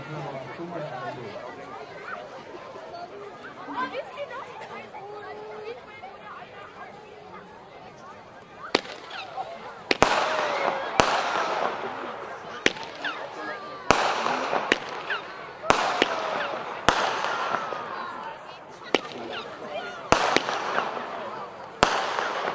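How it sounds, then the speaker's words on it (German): A small seven-shot white firework battery by Alpha firing outdoors at a New Year's product demonstration in Meissen, with sharp cracking reports spaced about a second apart after crowd chatter, people talking throughout. "Aber nichtsdestotrotz ist es eine wunderschöne weiße Bilderbatterie. Alpha, ein kleines Teil, 7 Schuss."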